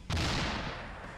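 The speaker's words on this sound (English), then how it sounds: "So these are the explosions that you can get from bombs or plane explosions" Explosion from a bomb or crashing plane in the military video game Arma 2, one loud booming blast that hits suddenly and then rumbles away over about a second.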